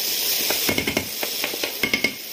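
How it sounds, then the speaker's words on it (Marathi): Coriander and cumin powder fry over medium gas with a soft steady hiss, broken by a quick run of light scraping stirs in the pan. "मीडियम गॅसवरती थोडंसं फ्राय देऊया"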